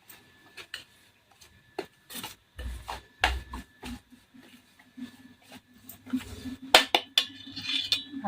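Green chili pickle being mixed in a vessel with a spoon: uneven scraping and clinking strokes of metal against the container, some louder knocks and rubs, close up with no voices.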